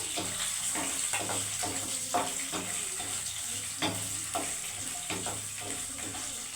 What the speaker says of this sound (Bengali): আমি নারকোলগুলো হালকা ভেজে দিচ্ছি